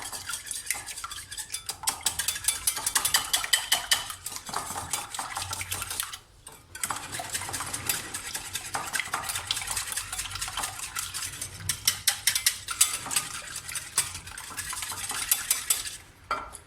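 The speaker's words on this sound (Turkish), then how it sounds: "Şöyle çok az bir çırpacağım" Two eggs being lightly whisked in a bowl for a savory vegetable crepe batter: fast, steady metallic clicking and scraping against the bowl, close and fairly loud, with one brief pause partway through.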